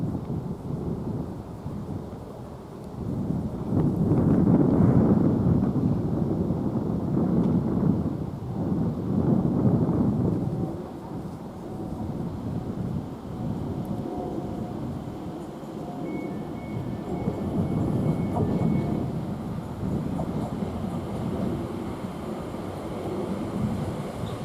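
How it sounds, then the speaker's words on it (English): Elizabeth line train, a Class 345, pulling into Shenfield station where it terminates: a steady low rumble that swells and lingers for about twenty seconds, with a faint high whine partway through and no talk. "Now we've got another Elizabeth line coming in"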